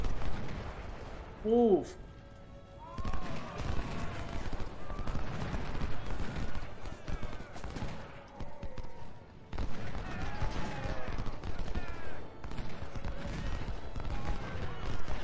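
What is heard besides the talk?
artillery shell shot and gunfire in Ultimate General: Civil War, video game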